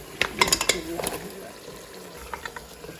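Goat trotters go into masala frying in a pot, giving a few clattering thuds and a brief stir at the start, then a soft, low sizzle that continues quietly.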